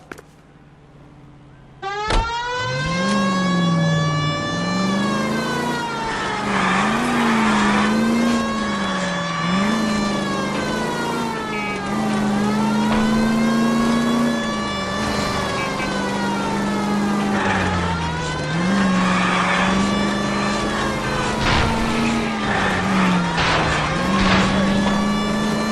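A car engine in L.A. Noire pulls away after a sharp start and keeps up a loud, steady drone, its pitch rising and falling through repeated gear changes and revs, with a siren-like wail weaving through.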